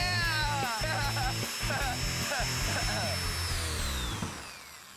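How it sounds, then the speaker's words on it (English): A power drill spins a toy car's wheels, giving a loud whirring whine that pulses in short bursts and then winds down toward the end, with people talking over it. "we're gonna make the wheels spin even faster using a drill"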